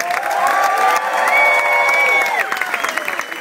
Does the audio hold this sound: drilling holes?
no